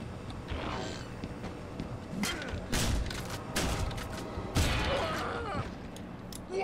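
Sniper rifles fire in the online shooter Gotham City Impostors, a few sharp cracks and bursts spread over several seconds amid game clatter and ambience.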